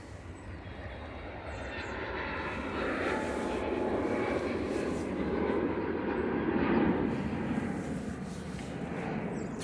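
A three-month-old KLM Airbus A321neo airliner passes at Manchester Airport, its broad jet-engine roar swelling from a moderate rumble to a peak late on before easing slightly, with no talking.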